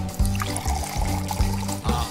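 Olive oil trickling into homemade pasta dough, several short close pours in quick succession, with a soft liquid gurgle and no voices.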